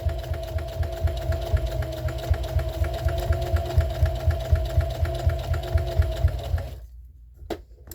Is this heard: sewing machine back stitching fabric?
yes